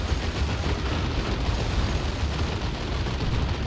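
Kaboom explosion ability going off in Dawn of War 2, a dense, rumbling blast that fills the whole moment with continuous loud booming and crackle, no voices over it.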